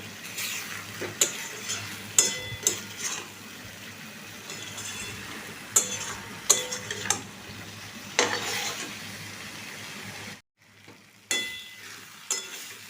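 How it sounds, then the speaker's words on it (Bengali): Jackfruit curry (kathal) stirred and sautéed in a pan, a soft sizzle under repeated scraping spoon strokes and clinks against the metal, close, with a short silent gap near the end before stirring picks up again; no voices. "এটা পরে ভালো করে কষিয়ে নেব।"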